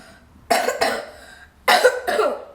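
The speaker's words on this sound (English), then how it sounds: "I still have got coughs" Two bursts of coughing, each a pair of harsh, close coughs separated by a short quiet pause.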